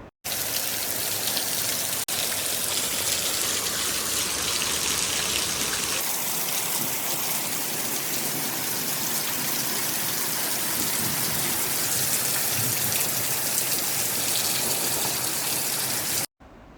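Heavy rain falls steadily and loudly, a dense, unbroken hiss of drops on surfaces that lasts throughout.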